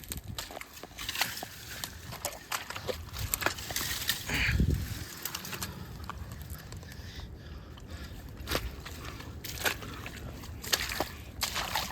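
Footsteps wading through a shallow creek, with sloshing water and scattered splashy steps throughout, heard near and moderately loud over an outdoor background.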